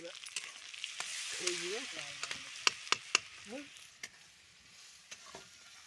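Garlic frying in hot oil in a home kitchen, with a steady sizzle under scattered stirring clatter and a few sharp utensil clicks; a voice murmurs briefly in the background.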